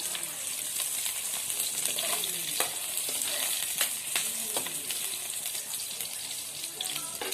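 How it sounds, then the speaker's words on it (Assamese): Onions fry in oil in a kadai with a soft, continuous sizzle, broken by light clicks and scrapes of stirring and a faint watery hiss underneath. "পিঁয়াজখিনি অকণমান ৰঙচুৱাকৈ ভাজি ল'ম।"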